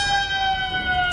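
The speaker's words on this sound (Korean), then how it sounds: "비상 사이렌 소리가 울려 퍼졌다." An emergency siren at a coal mine holds steady and close in a radio drama, a sustained wail with a slight downward drift in pitch.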